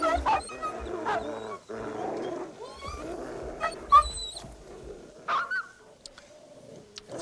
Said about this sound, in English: These dogs are both willing to put it to the test. They fight to the finish.